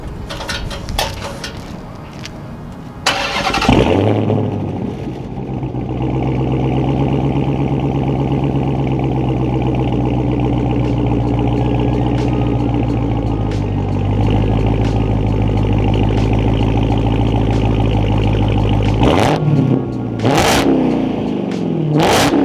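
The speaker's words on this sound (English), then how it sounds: "I'm gonna give y'all a warm start, and I'm gonna also give y'all a little slight couple revs" A Dodge Charger Redeye fitted with Carven 5-inch exhaust tips fires up from a warm start with a loud burst, settles into a deep, steady, rumbling idle, and closes with a couple of short, sharp revs near the end.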